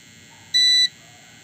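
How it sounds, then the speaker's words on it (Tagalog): A single short, high electronic beep sounds when the electricity goes out, sharp and clear against a quiet room, then stops. "Narinig niyo yung beep na yan."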